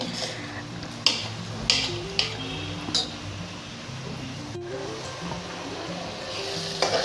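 Tomatoes and mashed vegetables for pav bhaji sizzle steadily in a pan, with a few sharp clinks of a spoon against the metal at irregular moments, all fairly quiet and close.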